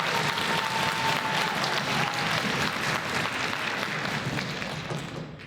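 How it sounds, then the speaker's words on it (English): Sustained, dense applause from a concert audience for the Indian River High School orchestras and the Greenbrier Middle 8th Grade Orchestra at a 2023 spring concert, steady and full throughout and easing off slightly at the end. "Give them a round of applause."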